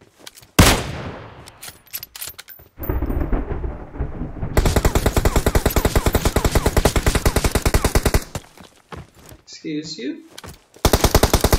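Gunfire in PUBG Mobile on the Ridgeline map: a loud opening shot, then long rapid bursts of automatic fire with a few pauses between them. A player's voice briefly cuts in near the end.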